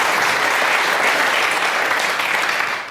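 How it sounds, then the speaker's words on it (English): Live stage-show audience bursts into sustained applause for a volunteer named Joe, dense steady clapping filling the room at full volume for the whole stretch and thinning slightly at the very end. "Round of applause for Joe."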